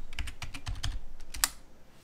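A password being typed on a computer keyboard during a Linux Mint kernel switch: a quick burst of about eight close, crisp key clicks in an irregular rhythm, then a quiet pause.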